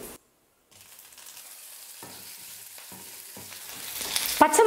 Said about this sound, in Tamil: பச்சை மிளகாவை சேர்த்து 1 நிமிஷம் நல்லா வதக்குனதுக்கப்புறமா